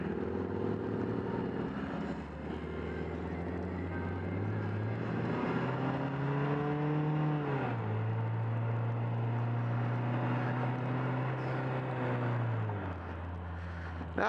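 A Vanderhall Carmel driving with a steady engine drone that rises in pitch through acceleration, drops at a gear change and climbs again, loud and continuous with wind rush throughout.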